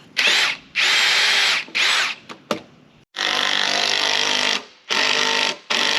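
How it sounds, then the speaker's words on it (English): A power drill whirs in several bursts, some short and some long, driving screws down into timber logs for a carport frame, with brief pauses between runs, loud and close. "I'm going to drill these pointing down, so I actually pull it tighter as I screw it in"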